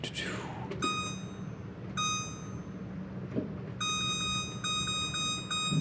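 A kitchen timer gives short electronic beeps as it is set, sounding in several brief spaced bursts over the clatter of a kitchen and a low background hum, with no talking.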